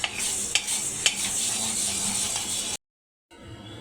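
Biuli dal is dry roasted in a kadai over low flame, with a continuous gritty rustle and occasional scraping clinks from the stirring. The sound cuts out briefly near the end.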